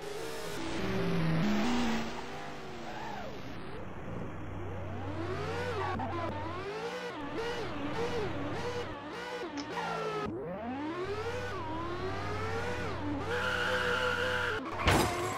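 A car in the Roblox game Driving Empire revs and accelerates with a rising and falling engine note, tires screeching repeatedly in skids, steady and close throughout.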